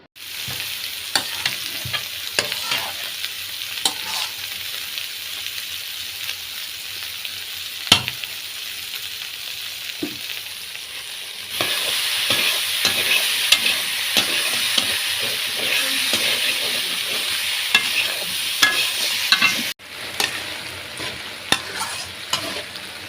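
Leafy greens stir-frying in a pan give a steady sizzle and hiss, broken by the scrape and clatter of stirring, with a louder burst of frying partway through and no talk.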